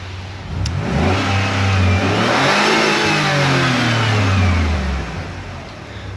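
A Chrysler car engine revs hard and loud, climbing and falling in pitch through several sustained pulls at close range, with no voices over it.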